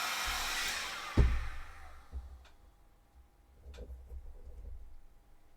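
A heat gun warms shoe armor material for a Warhammer 40k Sisters of Battle cosplay, giving a soft, breathy blowing hiss that fades after about a second, followed by a sharp thump and scattered faint clicks and handling noises.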